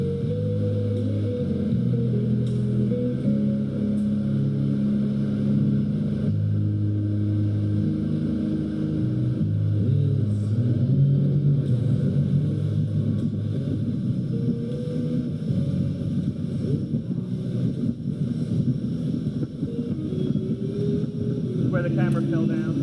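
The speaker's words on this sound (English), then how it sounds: "This is live audio from a crashed camera in a boat" Loud, steady engine drone with rushing wind and water noise, recorded by a camera fallen inside a moving motorboat, continuous for the whole stretch.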